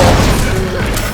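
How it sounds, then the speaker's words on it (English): A bot fires an ASMD combo in the Unreal multiplayer game, and it bursts as a loud, close blast that dies away over about a second. "That was an ASMD combo by the bot."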